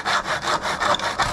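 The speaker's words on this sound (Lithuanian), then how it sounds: "Ir šitą dalį einam nupjauti su metalo pjūkliuku." A small metal hacksaw cuts through window sill trim in quick, even back-and-forth strokes, a rasping sound up close with no voices.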